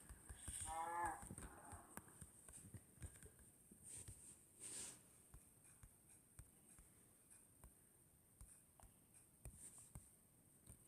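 A Minecraft cow moos once near the start, a short clear call, with faint clicks and taps continuing quietly afterward.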